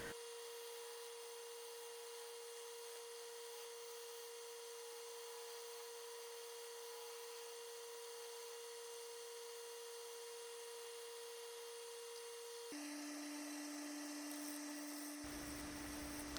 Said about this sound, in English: So just touching up the outside again with more shear scraping.